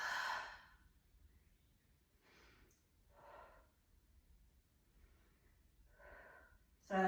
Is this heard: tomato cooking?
no